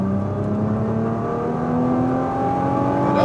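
A Nissan GT-R at full throttle on a racetrack, its engine note climbing steadily as it pulls out of a corner, loud and close, with a steady whine riding over the exhaust.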